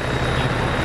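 A helicopter in the Arma 3 military game during a night compound raid, its steady low rotor drone and engine hum filling the short moment at close range with no talk over it.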